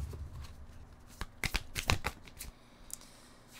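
Oracle cards being shuffled close by in a few quick riffling bursts, crisp and papery, followed by a lone soft card tap in a quiet room.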